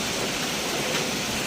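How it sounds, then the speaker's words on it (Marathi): Steady rain falls outside during a monsoon day, a continuous even wash of patter heard alone and fairly close throughout. "आणि बाहेर पाऊस पण चालू आहे."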